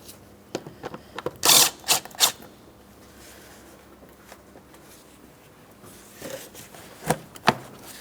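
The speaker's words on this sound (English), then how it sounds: "Loosen your 8mm headed clamp just enough that you can remove this inlet tube from the top of the air filter housing." An 8mm-headed hose clamp is loosened on the air inlet tube above the air filter housing of a 2008-2016 Chrysler Town & Country 3.8L V6, with sharp tool clicks and short mechanical bursts against a quiet workshop background.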